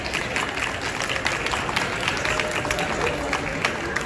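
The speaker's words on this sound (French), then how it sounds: "On peut les applaudir." Audience applause for a group of presenters from Unisal Beauvais at an academy event at the SIA agricultural show, a steady dense wash of clapping with some crowd murmur and voices underneath.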